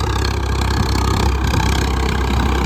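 Swaraj 855 tractor engine running at a steady idle, close and loud, with a continuous low throbbing drone and no pauses.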